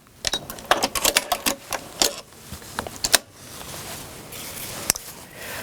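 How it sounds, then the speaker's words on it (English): Sewing machine stitching foundation paper piecing for a quilt block, short irregular bursts of rapid clattering stitches separated by brief pauses, close and fairly loud. "You stitch right along the line, and I go about 1/4 inch over."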